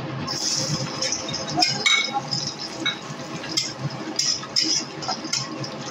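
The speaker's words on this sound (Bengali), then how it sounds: "এখন আমি দিয়ে দেব কিশমিশগুলো।" Raisins drop into a pan of hot oil for Bengali chire pulao, setting off a steady busy sizzle with bright clinks of a metal spoon against the pan.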